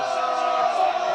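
Crowd at a high school football game between Hammonton and EHT cheering and chanting for kicker Tim Mason, a sustained massed roar of voices, loud and brief.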